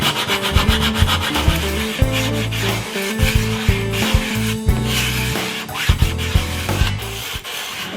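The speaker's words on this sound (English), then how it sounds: "I've sanded it down to 240 grit." A wooden acoustic guitar jig is hand-sanded smooth to 240 grit in steady back-and-forth rubbing strokes, close and fairly loud, with a rhythmic scratchy rasp and no talk.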